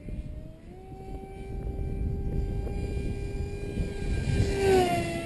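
A Bixler 2 RC airplane with an upgraded motor flies past into a light headwind at high throttle, its airframe fluttering. A steady electric motor whine rises in pitch and loudness toward the end, with no talk.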